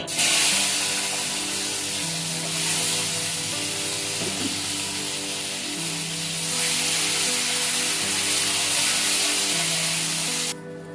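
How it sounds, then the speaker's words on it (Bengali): Flat beans coated in salt and turmeric fry in hot oil, making a continuous loud hissing sizzle that swells and eases slightly. Faint steady tones sit underneath, and no one talks. "এবারে আমি সিমগুলোকেও লবণ হলুদ দিয়ে মেখে ভেজে নিব"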